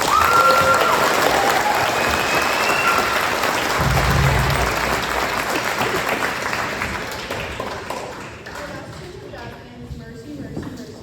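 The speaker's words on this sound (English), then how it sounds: "let's give them a round of applause." Concert audience at a school fall band concert breaks into sustained, dense applause and clapping that starts loud and gradually thins and fades over the clip.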